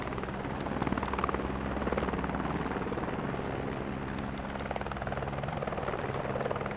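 An enemy helicopter in the military shooter game Squad, a continuous droning rotor hum with steady blade chop, moderately near and unbroken throughout, with no speech over it.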